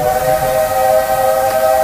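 A steam locomotive whistle on the Walt Disney World Railroad blows loud and close, one sustained, steady hissing tone held without a break.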